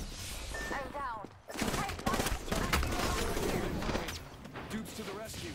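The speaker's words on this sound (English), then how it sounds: "Getting shot at." Rapid gunfire in the online shooter Apex Legends crackles in dense bursts and blends with game sound effects. A character or player voice talks over much of the action.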